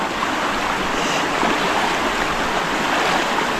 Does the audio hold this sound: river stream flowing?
yes